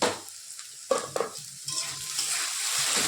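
Potatoes frying in a pan: a sizzle that builds steadily, broken early by a few sharp stirring clatters of a utensil against the pan.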